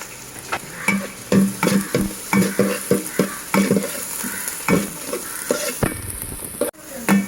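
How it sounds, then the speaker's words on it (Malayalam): Onions and garlic are sautéed in a pan for Kerala-style karimeen mappas, a steady close sizzle with repeated scraping stirs in a loose rhythm. "അപ്പോൾ നമുക്ക് ഈ ഇത്രയും സാധനങ്ങൾ നല്ലോണം വഴറ്റിയെടുക്കണം"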